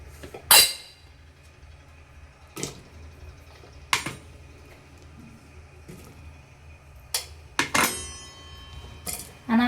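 Chopped vegetables for pav bhaji are dropped into a metal pressure cooker pot in a home kitchen, producing a handful of sharp, separate clanks and clinks spaced a few seconds apart over a quiet background.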